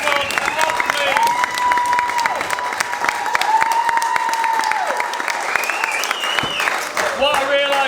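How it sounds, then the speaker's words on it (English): Wedding guests applaud after a speech, steady dense clapping running throughout with voices and cheering mixed in, fairly loud and sustained. "Proper round of applause for Rob, please."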